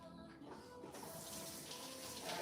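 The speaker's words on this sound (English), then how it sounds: "I'm gonna wash my hands quickly with some soap and water." Hands being washed with soap under a running tap, a steady close rush of water that grows a little louder, with no voices.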